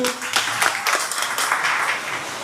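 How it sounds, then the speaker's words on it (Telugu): Audience hands clapping together in a room, a dense, fairly steady patter of many claps lasting a couple of seconds with no voices over it. "చప్పట్లు కొట్టండి"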